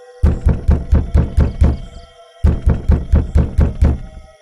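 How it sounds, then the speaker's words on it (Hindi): Heavy knocking on a door in a horror tale: two loud bursts of about eight quick, evenly spaced thuds each, separated by a short pause, with no voices. "तभी उनके दरवाजे पर से आवाज आती है"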